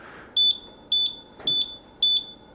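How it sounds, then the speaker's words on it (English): A Golden Buzzaround LX three-wheel mobility scooter gives five short, sharp electronic beeps at an even pace, warning that its automatic brake is not engaged. Each beep sounds clear and close. "it's going to not work and it's going to beep 5 times"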